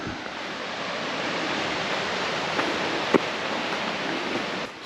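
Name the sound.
small waterfall on a mountain trail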